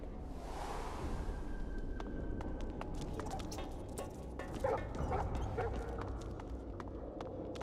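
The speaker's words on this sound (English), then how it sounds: "Holy hellhounds! Those dogs sound out for blood." Hellhounds in the fantasy role-playing game Divinity Original Sin 2 bark in a rapid, repeated volley over a dense, noisy game ambience, the barks sounding somewhat distant and overlapping.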